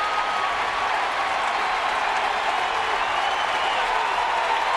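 A sellout baseball crowd at AT&T Park in San Francisco, standing during a 1-2 count in a Giants–Astros game, makes a steady, loud roar of cheering and applause that holds evenly throughout with no pause.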